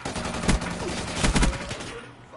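A quick burst of gunfire in a video game featuring R70 Ajax and Peacekeeper weapons, several sharp shots cracking loudly in rapid clusters over background game noise.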